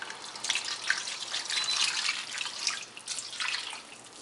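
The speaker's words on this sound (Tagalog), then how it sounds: "lagyan muna natin sila ng tubig." Water splashes and trickles into a pot of embutido being readied for steaming, a continuous bright, bubbly pouring sound with small drips, close and steady throughout.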